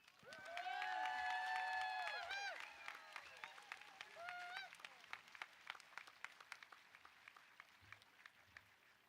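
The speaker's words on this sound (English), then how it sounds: "Another round of applause, please." Audience applause at a high school graduation ceremony starts under voices and other tonal sounds, then thins into scattered individual claps that taper off over several seconds.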